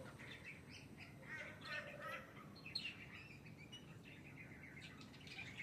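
A flock of figbirds calls in a suburban setting near Daisy Hill, with scattered chirps and short whistled notes coming from a moderate distance over steady low background noise.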